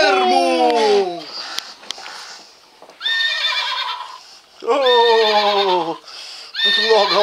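A horse neighs in a Toy Story video game, three loud descending whinnies separated by short gaps, close and clear with a little game noise between them.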